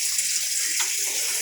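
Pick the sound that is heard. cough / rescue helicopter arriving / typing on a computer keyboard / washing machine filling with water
washing machine filling with water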